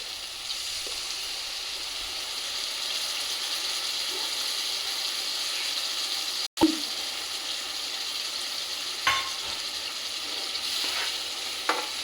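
A tamarind curry is stirred and mixed in a sizzling pan, with a steady broadband frying hiss throughout, a sharp clatter of the spoon against the pan partway through and a few lighter scrapes later.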